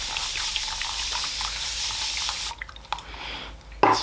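Water hisses in a continuous spray for a few seconds while hair is wetted at a barbershop, then stops, leaving a few soft drips and handling noises and a final sharp clack.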